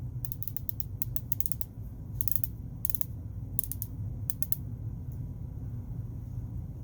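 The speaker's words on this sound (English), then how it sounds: "Black Bay 58 has a 60 click bezel." A Tudor Black Bay 58 dive watch's 60-click bezel is turned, producing crisp close ratcheting clicks in quick bursts and short clusters with brief pauses between, over a low background hum.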